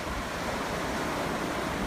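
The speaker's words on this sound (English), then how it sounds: "the ocean's particularly nice right now. I think it's low tide and it's very calm, not windy" Calm ocean waves wash steadily at low tide on a still, windless day, a continuous soft surf hiss close by with no voices.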